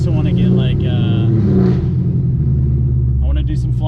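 2018 Camaro ZL1 with Kooks long tube headers and no mufflers, a loud raw rumbling exhaust burbling up close while voices talk over it.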